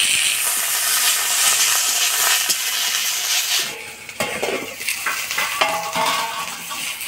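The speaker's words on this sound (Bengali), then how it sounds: "তেল দিয়ে সজনা পাতাগুলো ভেজে নেব।" Drumstick leaves frying in oil in a pan with black cumin, a steady broadband sizzle with occasional stirring and utensil scrapes, close and fairly loud, softening partway through.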